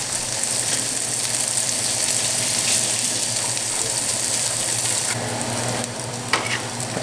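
Onions frying in a pan for pepper and eggs sizzle loudly and steadily close up, a continuous hiss with faint crackles, easing slightly near the end as a clink sounds.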